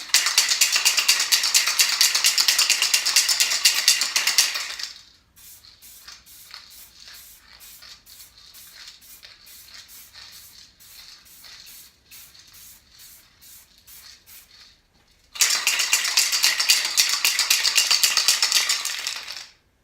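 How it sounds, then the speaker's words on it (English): A spray nozzle hisses in two long, steady bursts as Duracoat coating goes onto Smith & Wesson M&P Shield pistol parts, with a quieter stretch of faint clicking and rattling between the bursts. "these nozzles, you can change it so the spray is either vertical or horizontal"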